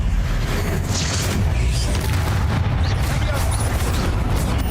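Confringo fire-spell blasts in Hogwarts Legacy combat: loud, booming bursts over a dense, crackling battle wash, close and continuous, with a voice shouting amid the noise.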